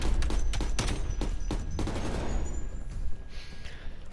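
Rapid automatic gunfire in an online shooter video game, with a loud, dense burst of shots that spreads into a sustained roar of fire, close and without talk.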